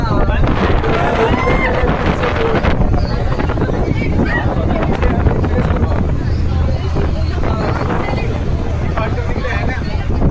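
A boat heading to Vivekananda Rock rocks and lifts on sea waves, with a constant loud rush of water and wind buffeting the microphone throughout.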